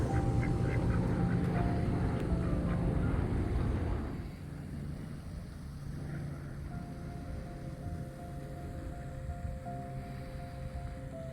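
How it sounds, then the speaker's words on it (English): Ducks quacking at a park pond at Barber Park in Orlando, Florida, a steady outdoor wash with short quacks standing out over the first few seconds before the scene settles into a quieter, constant background hum. "it would definitely appear as if these ducks know what they're doing"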